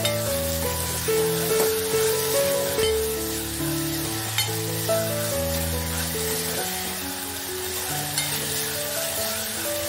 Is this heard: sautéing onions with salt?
yes